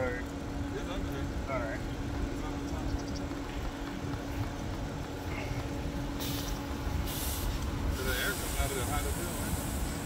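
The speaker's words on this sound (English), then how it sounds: "Escaping gas is cool." Pressurized gas escapes in several sharp hissing bursts near the end, over a low idling engine rumble at a roadside where trucks and cars are stuck, with people talking throughout.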